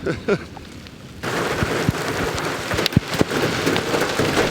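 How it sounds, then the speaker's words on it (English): A sudden dense clatter of large hail starts up and keeps pounding steadily, with scattered sharper impacts standing out above the roar. "Now, we're getting a hailstorm."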